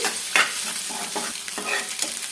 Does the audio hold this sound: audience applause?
no